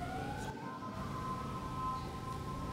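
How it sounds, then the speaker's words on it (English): Siren from an emergency vehicle passing outside, a steady wailing tone sweeping slightly in pitch, held continuously and moderately loud against a muffled room background. "Can you all hear me over the siren?"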